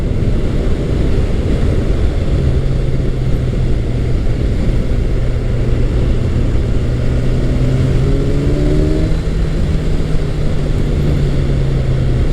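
Kawasaki Ninja 1000SX motorcycle ridden through a set of corners on a bumpy road, a steady close engine drone under heavy wind rush with faint rising and falling engine tones.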